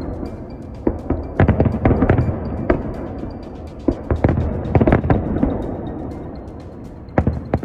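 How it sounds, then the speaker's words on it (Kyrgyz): Victory Day fireworks salute on 9 May, with sharp bangs bursting in irregular clusters over a steady crowd rumble, loud and fairly close. "9 май жеңиш күнү эң чоң салют менен аяктады"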